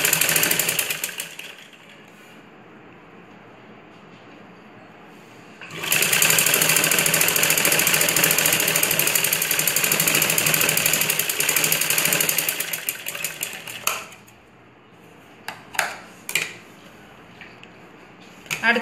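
Sewing machine stitching a belt onto a ladies' blouse, with a loud continuous motor hum and rapid needle chatter from about 6 to 14 seconds, preceded and followed by quieter handling and short bursts of stitching.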